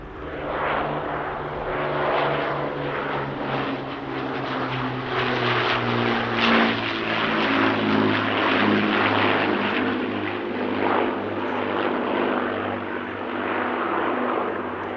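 A Hawker Hurricane Mark I propeller fighter flies past at an air show, its engine a loud, steady droning roar with a shifting pitch that fills the whole stretch without pause.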